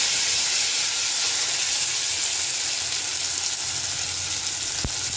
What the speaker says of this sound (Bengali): মটরশুঁটি আর টমেটো হালকা ভেজে নেব।